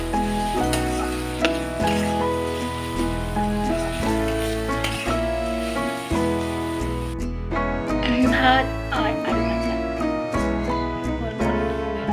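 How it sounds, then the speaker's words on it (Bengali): Potatoes sizzle in hot oil in a home kitchen, a steady crackling fry running throughout under louder background music. "আলু ছেড়ে দিলাম জেলে তেল গরম হয়ে গেছে"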